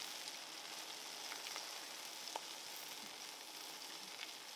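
Pork chops seasoned with Old Bay fry in a pan, giving a steady, quiet sizzle with faint crackles and pops throughout, no talking.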